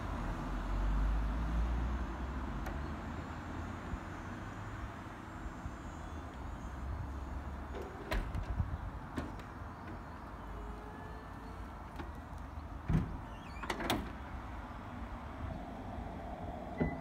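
A car's convertible roof, operated by a switch, closes while the power windows rise, giving a long low mechanical motor hum with clicks and thumps near the end. No talk is heard.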